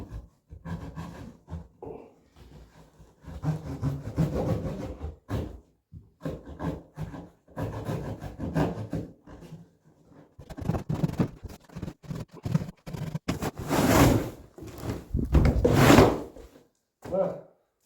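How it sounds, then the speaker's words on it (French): Heavily reinforced cardboard from a fatbike box is torn and ripped open by hand in repeated rough bursts, with scraping and rustling and some breathing in between. "J'ai fini par arracher le carton parce que il est vraiment très renforcé."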